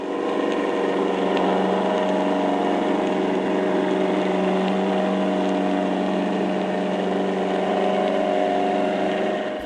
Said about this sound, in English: the air-powered torpedo also has exhaust, which makes it sound a bit like a lawnmower.